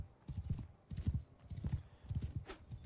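Rhythmic clip-clop of horse hooves galloping in the medieval combat game Bannerlord, a steady repeating beat of heavy thuds, fairly close and moderately loud, with no talk over it.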